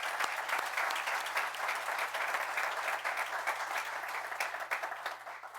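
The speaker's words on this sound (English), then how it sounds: "So give a round of applause for Joe." Audience applause at a town swearing-in ceremony, a dense, continuous wash of many hands clapping at moderate distance, holding steady throughout and thinning slightly at the end.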